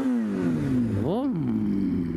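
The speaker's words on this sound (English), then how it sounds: "Give you another little exhaust rev real quick." An engine revs once, its exhaust note climbing sharply then falling back to a low idle burble, close by and fairly quiet overall.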